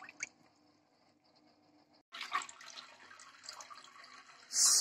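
Warm water pours into cold honey while mead must is made, a quiet stretch giving way to a steady, fuller trickle and splash that swells into a louder gush at the end.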